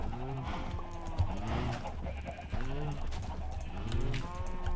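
Cattle mooing in Minecraft: several drawn-out, wavering moos repeat close by across the stretch, over a steady low background hum and faint game sounds.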